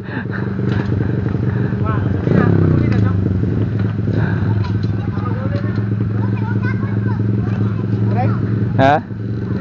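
A motorcycle engine hums steadily throughout a ride, its low drone running under loud conversation between riders, with a brief clatter partway through.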